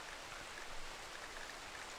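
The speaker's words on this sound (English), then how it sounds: "Oh, there's the rain, so that should stop the fire." Rain falls in RimWorld as a steady, faint hiss, even and unbroken, with no voices.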